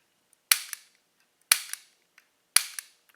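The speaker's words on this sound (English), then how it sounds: "it's got a really smooth double action trigger" The double-action trigger of an unloaded FMK 9C1 Gen2 pistol is pulled three times, evenly spaced. Each pull ends in a sharp, close click followed by a softer secondary click, and silence falls between them.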